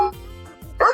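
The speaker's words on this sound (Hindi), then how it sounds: "कुत्ते की भौंकने की आवाज है" A dog gives a couple of quick bow-wow barks, fairly close and moderately loud, over a faint background.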